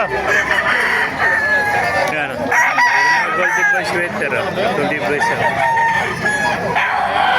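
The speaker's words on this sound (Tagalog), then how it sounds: "Maraming manok kayo dito sa Baliwag." Several roosters crow repeatedly at a chicken market in Baliuag, Bulacan, overlapping one another amid clucking, while someone talks over the din nearby.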